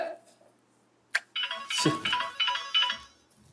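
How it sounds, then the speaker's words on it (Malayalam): A phone ringtone plays a bright electronic melody in repeating bursts after a short quiet lead-in, fairly near and clear. "ഫോൺ അടിക്കുന്നത്."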